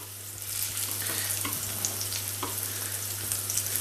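Breaded green asparagus spears frying in a pan, a steady close sizzle of hot fat with faint scraping and crackles as they are turned, no voices.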